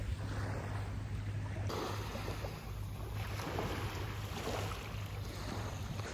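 A sampan boat moves on the sea near Saint Martin island, giving a steady low engine-like hum under rushing wind and water noise, with no voices.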